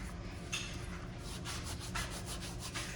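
Dried Italian seasoning crushed and rubbed between fingers, a soft steady dry rustling with a few brief crackly bursts, close up and alone.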